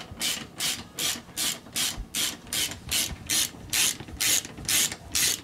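A ratchet wrench tightens the front wheel axle nut on a military vehicle. About a dozen crisp, evenly spaced clicking bursts repeat close up, with quiet pauses between strokes and no talk.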